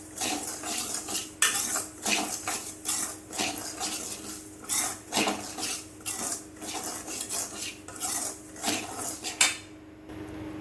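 Semolina (rava) roasts in a pan over a medium flame while a metal spoon stirs it in a steady rhythm of repeated scraping clinks. The stirring stops just before the end, and no one speaks.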